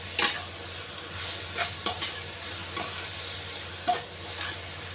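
A spoon stirs ginger garlic paste and tomatoes frying in a pan while making chicken gravy. Steady sizzling runs throughout, broken by several distinct scraping strokes against the pan, close up and with no voices.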